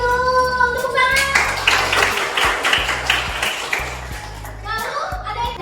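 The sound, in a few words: classroom children clapping for a correct answer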